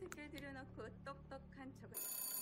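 An old-style telephone rings with a bright, insistent electronic trill that continues over someone speaking, then grows louder and clearer as the talking stops.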